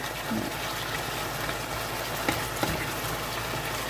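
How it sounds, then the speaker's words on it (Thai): Water poured from about half a glass into bean sprouts and vegetables stir-frying in a hot pan, giving a steady hiss and sizzle that runs throughout with a couple of small clicks. "ตอนนี้เราก็จะใส่น้ำลงไปสักประมาณครึ่งแก้วนะคะ"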